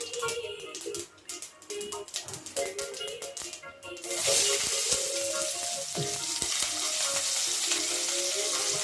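Mustard seeds splutter in hot oil with rapid crackling pops, then onions go in for a goat head curry and a loud, steady frying sizzle takes over, with occasional stirring scrapes.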